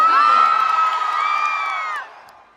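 A large crowd at a motivational seminar in Patna cheers and whoops in one sustained, loud roar that holds for about two seconds and then drops away. No one speaks over it.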